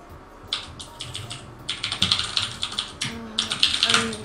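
Loud computer keyboard during a StarCraft Zerg practice stream, keys struck in quick clattering bursts with short pauses, close up and clear, with no talking over them.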